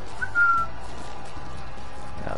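A character in The Binding of Isaac video game whistles a single short, clear note, loud and up close over a steady low game background hum, with no talking.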